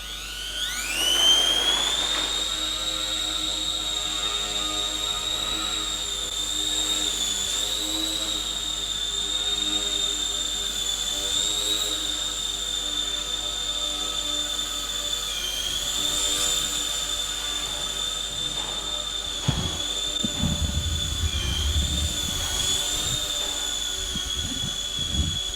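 Ultra micro radio-controlled plane flying indoors in a sports hall, a steady high-pitched motor whine that rises at launch and holds for the whole flight, with faint rattles and a few knocks near the end.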